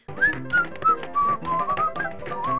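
A man whistles a slow, lilting show tune, clear and close, with wavering held notes and no talking.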